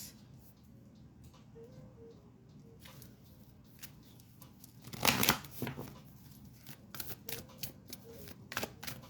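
Oracle cards being shuffled, soft papery riffles and taps close by, building to a brief louder burst of flicking cards midway, then lighter scattered shuffles.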